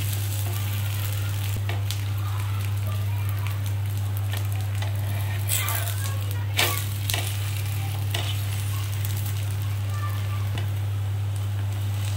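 A pan hisses and sizzles steadily as a batter flatbread (gola roti) fries, with a low constant hum beneath and occasional scraping or stirring bursts.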